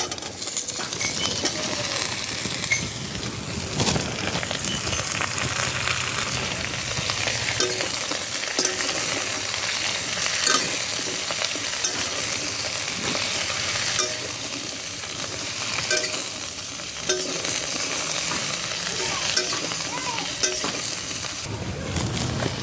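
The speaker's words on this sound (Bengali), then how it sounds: "মশলার মধ্যে কেটে রাখা শাপলাগুলো দিয়ে একটু ভালো করে নেড়ে চেড়ে নেব" Cut water lily stems stirred through spices in a hot pan, a steady close sizzle with scraping and clatter of the spoon running throughout, no voices.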